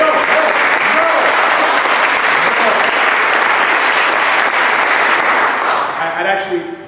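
An audience at a student model senate session breaks into loud, sustained applause that fills the room and then tapers off near the end, with voices heard underneath.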